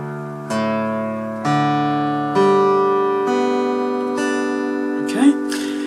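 Open strings of an acoustic guitar in double drop D tuning plucked one at a time, six clear ringing notes about a second apart that overlap and sustain, close and fairly loud.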